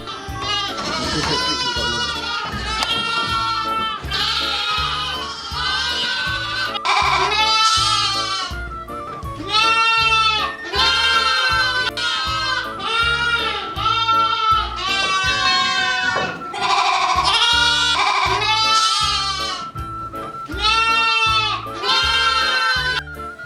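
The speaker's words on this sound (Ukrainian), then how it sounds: "В його господарстві налічується 45 овець румунської м'ясомолочної породи цуркани Букулаї та 50 ягнят." A flock of Romanian Tsurcana Bucolai meat-and-milk sheep with their lambs, kept in the Carpathians, bleat loudly and constantly nearby, with many overlapping calls from adults and lambs and no pause.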